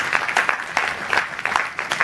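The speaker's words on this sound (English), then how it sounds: "a special round of applause" A short burst of audience applause at a book launch, many hands clapping at once, steady and moderately loud, heard from a distance in a large room.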